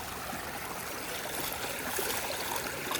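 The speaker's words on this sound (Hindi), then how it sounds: "ठंडा ठंडा पानी बहता हुआ" Cold water running along a natural stream during the khareef season near Salalah, a soft continuous rushing and trickling flow heard alone at a steady level.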